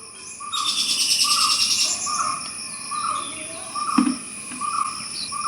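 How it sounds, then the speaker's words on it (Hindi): Several birds calling outdoors at a resort in Thekkady, Kerala: repeated short mid-pitched hoots or coos in a steady rhythm, a higher chirping call early on, and a third sharper call, moderately near over a soft background hiss. "अभी भी बर्ड्स की आवाज़ आ रही है, 3 अलग आवाज़ें।"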